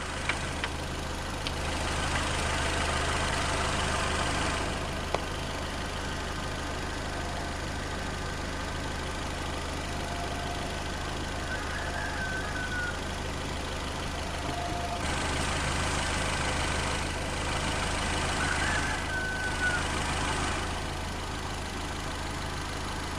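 A Nissan Altima engine idling: a steady, even low hum with a faint mechanical ticking, continuous and close, with some brighter hiss rising and falling over it.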